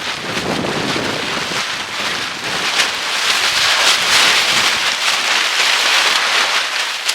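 Strong wind buffets the outdoors around a garden bed, roaring continuously and loudly with gusty swells and rumbling microphone noise, and no voices.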